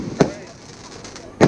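Salute cake fireworks at a backyard show go off in two sharp, loud bangs about a second apart over faint background noise.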